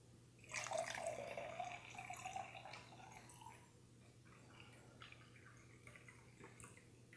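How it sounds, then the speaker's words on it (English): Water pours into a drinking glass in a soft, short splashing burst that tapers off into quiet trickles and drips. "All I'm going to do is fill this glass with water."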